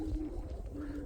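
Roller pigeons cooing at their loft, a low soft throaty coo heard up close and brief, with faint background noise.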